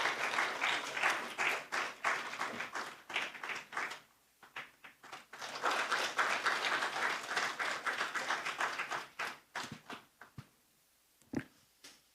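An audience at a church revival meeting applauds steadily for several seconds, fades briefly, then swells again before tapering into a few scattered claps.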